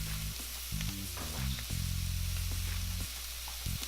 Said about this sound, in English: With the quinoa, you just want to brown it just a little bit.